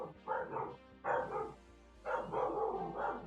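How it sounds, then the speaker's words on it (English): Dogs barking indoors during a video game session; three bursts of repeated barks, each a quick cluster of woofs, moderately close with short pauses between. "My dogs are barking."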